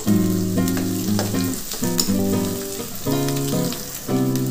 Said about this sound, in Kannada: ಈಗ ಕೊರ್ಬೇವಿನ ಸೊಪ್ಪು ಹಾಕ್ತಾಯಿದ್ದೀನಿ. ಒಣಮೆಣ್ಸಿನ್ಕಾಯಿ, ಹಸಿಮೆಣ್ಸಿನ್ಕಾಯಿ ಒಂದು ಸ್ವಲ್ಪ ಹಾಕ್ಕೊತಾ ಇದ್ದೀನಿ